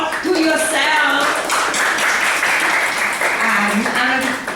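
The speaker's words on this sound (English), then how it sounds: "Please give a applause to yourself." Audience applause at a Toastmasters meeting, steady hand clapping from a room of people throughout, mixed with voices and chatter over it.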